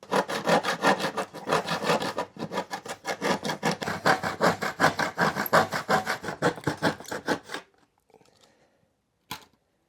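A hand saw cuts notches into a wooden board in a steady run of rhythmic back-and-forth strokes, close and loud, then stops abruptly, followed by a faint knock.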